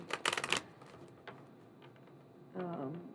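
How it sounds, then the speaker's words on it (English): Halloween Oracle deck cards being shuffled by hand: a quick burst of riffling flicks up front, a softer tap later, then a voice starts speaking near the end. "I'm shuffling"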